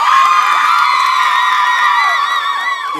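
A school audience cheers loudly during a high school tour, high whoops and shouting voices forming a continuous roar that holds for about three seconds, with no separate claps standing out.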